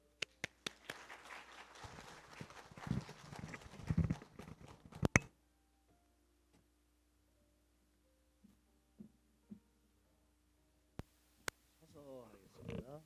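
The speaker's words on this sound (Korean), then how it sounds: "큰 박수로 맞이해 주시길 바랍니다" Loud, dense applause from a lecture audience welcoming a speaker for about five seconds, ending abruptly, followed by a quiet room with a few faint knocks and brief talk.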